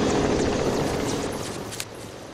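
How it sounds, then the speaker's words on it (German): In a shooter video game, a helicopter whirs steadily with a dense, rushing drone that slowly fades a little, without talk. "Sollte ich wieder versuchen, den Hubschrauber mit dem Granatwerfer zu treffen."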